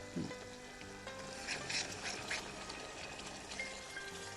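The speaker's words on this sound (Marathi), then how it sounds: "आता आपण याच्यात दही घालणार आहोत" Yogurt goes into a pan of sizzling masala spiced with turmeric, producing a soft, continuous frying hiss with light scraping and stirring; the sound is faint and alone.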